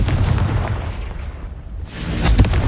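A Confringo spell blast in the video game Hogwarts Legacy goes off as a loud booming explosion with crackling bursts, followed by a second heavy impact near the end.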